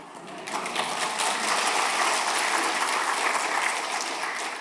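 A church congregation at a Sunday service claps for a visiting pastor, a thick, steady roar of hands that swells in after half a second and holds loud and even to the end, with no voices.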